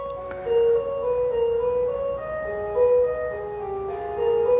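A melodic electronic chime tune, like an ice cream truck jingle, plays steadily as a sequence of tonal notes over a low background hum.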